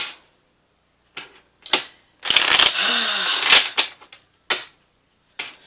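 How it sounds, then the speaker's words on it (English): Cards drawn and shuffled from a Kipper deck, a string of brisk papery riffles and slides with one longer burst in the middle and short flicks after it, close and clear, with no talking. "I'm going to get a card or two from the Kipper deck"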